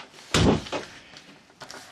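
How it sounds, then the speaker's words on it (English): A door is pushed shut with one solid thud, followed by a faint rattle and a softer knock, heard up close in a quiet indoor room. "Come close my door, please."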